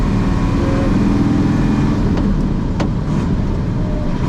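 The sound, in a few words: Unimog UL 1700 turbocharged 6-cylinder engine driving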